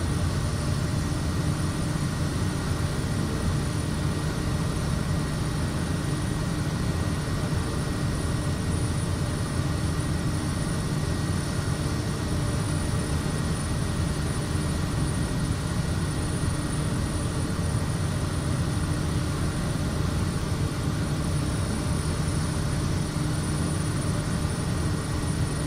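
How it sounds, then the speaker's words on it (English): An aircraft engine in Microsoft Flight Simulator 2024 drones steadily as the throttle is pulled back, a loud continuous engine roar and hum that holds without a break for the whole stretch. "pulling back on the throttle a lot"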